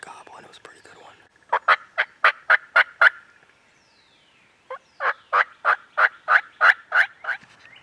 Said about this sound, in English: that was a true legitimate gobble, and it was a pretty good one